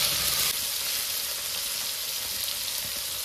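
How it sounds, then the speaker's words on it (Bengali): Chopped tomatoes frying in a pan with a little salt, a loud, close, continuous sizzle as they are stirred, with no talking. "টমেটোকে নেড়ে চেড়ে একটু ভেজে নেবো"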